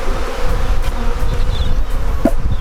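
Honey bees, likely Buckfast stock, buzz loudly as they are shaken from a nuc box into a full-size beehive, a dense continuous swarm drone close by with a brief knock of the frames partway through.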